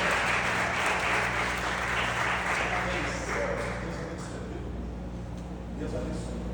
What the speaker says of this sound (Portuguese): Quantos que podem aplaudir a Jesus pela vida desses servos de Deus?